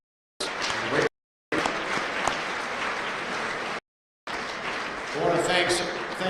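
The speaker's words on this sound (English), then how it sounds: "I want one last final round of applause for the folks here at the Center of the Arts." Applause from the crowd at a college basketball awards banquet, loud and steady. It is broken by brief silent gaps, with faint voices under the clapping near the end.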